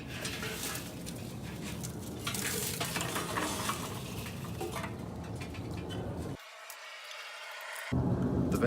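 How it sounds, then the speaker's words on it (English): Charcoal coals tumble into a kettle grill, rattling and pattering in a dense, close stream of small clattering impacts before a brief pause and a final scatter. "And in go the coals."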